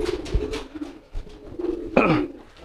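Pigeons bought at a market coo in low, soft throaty bursts, with wing flutters and scuffling movement close by and a sharper flurry near the end; no one speaks.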